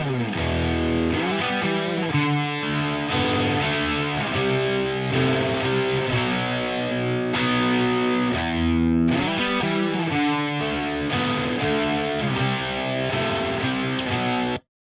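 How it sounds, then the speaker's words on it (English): Heavily overdriven electric guitar playing sustained chords through a tube saturation effect pushing the amp's distortion, giving a thick, saturated tone, loud and continuous with no voices. "it pushes in a nice way the distortion of the amp."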